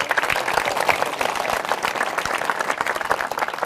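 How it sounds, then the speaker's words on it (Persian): An audience at a religious talk claps in a lively burst, with many distinct hand claps layered into continuous, fairly close applause. "تشویق بفرمایید"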